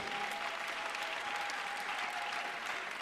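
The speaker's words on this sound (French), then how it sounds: "Applaudis le Seigneur des Seigneurs." A church congregation applauding during a deliverance service, a thick, continuous wash of many hands clapping at once, even in level with a faint steady tone beneath.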